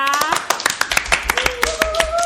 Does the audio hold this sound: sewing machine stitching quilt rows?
no